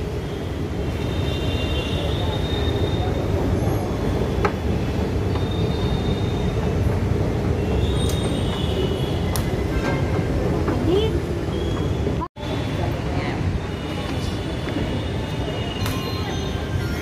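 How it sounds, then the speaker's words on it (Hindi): A metro train at a Hyderabad metro station rumbles steadily with faint wheel squeal throughout, loud and close, with a brief dropout partway through and no clear talk. "ये मेट्रो स्टेशन है"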